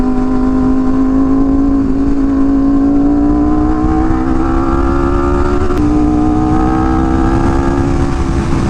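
A fast motorcycle on a bumpy road, its engine droning steadily and loudly at close range with a pitch that climbs slowly, mixed with constant wind and road roar and no talk.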